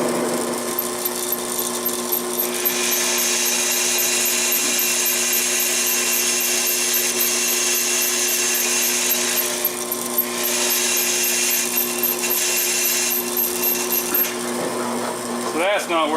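Drill bit grinding into a steel lawn mower blade, a steady loud whine with high-pitched screeching bursts that ebb and return, the boring continuous under faint background talk.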